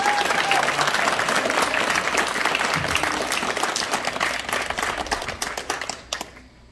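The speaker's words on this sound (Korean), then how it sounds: "한영경 회장님에게 뜨거운 박수 한번 보내십시오" Dense, loud audience applause fills a badminton club's anniversary ceremony and officers' inauguration, steady clapping from many hands that thins and fades toward the end.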